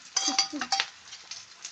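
An egg goes into a cooking pan with light clinks and scraping of a utensil against the metal, then a soft sizzle, close and fairly quiet.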